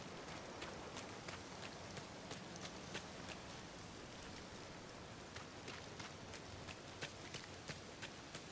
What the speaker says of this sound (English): this rain doesn't seem too bad